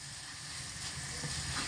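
Potato straws for jhuri bhaja frying in hot oil, a dense, steady, close-up hiss of bubbling oil that holds evenly throughout without pauses.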